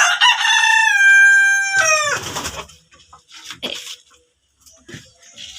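A rooster crows loudly and close in a small backyard poultry pen, one long drawn-out call, followed by faint clucks and quieter farmyard sounds.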